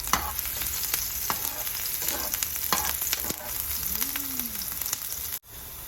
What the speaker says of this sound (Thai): ก่อนอื่นเราก็ผัดหัวหอมให้หอมก่อนนะคะ กับน้ำมันเนาะ